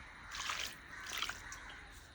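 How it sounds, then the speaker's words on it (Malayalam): Water is poured into a pot of jackfruit being cooked down for a traditional preserve, coming as two short, faint splashing pours about a second apart with a little dripping afterward. "ഇനി കുറച്ച് വെള്ളം ഒഴിച്ചു കൊടുക്കണം"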